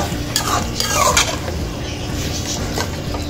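A spoon stirs chicken gravy with red chilli powder in a pot, giving a few quick scraping, sloshing strokes close up over a low simmering bubble, with no voices.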